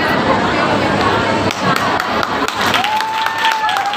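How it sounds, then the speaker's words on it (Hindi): Audience applause at a school farewell ceremony, a dense, steady wash of clapping from a crowd, with scattered voices and brief tones mixed in. "जोरदार तालियां।"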